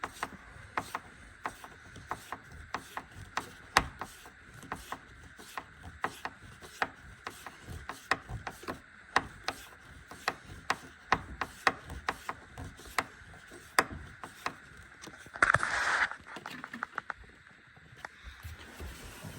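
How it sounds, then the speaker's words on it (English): A screw is driven in and tightened on a third-generation truck, heard as a long run of close, sharp ratcheting clicks at an uneven pace, with a brief harsher scraping burst near the end. "Screw that in. Get it good and tight."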